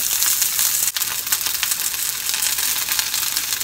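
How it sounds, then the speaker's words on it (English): Steady broadband sizzling of spring onions frying in a pan over low heat, a constant hiss with faint crackles throughout, close and moderately loud. "turn down the heat to low and fry them until they get golden brown color"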